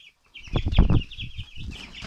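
A young Buff Orpington chick clucks and chirps close by in a short series of soft calls, with a faint high peeping behind it.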